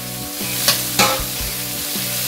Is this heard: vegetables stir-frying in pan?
yes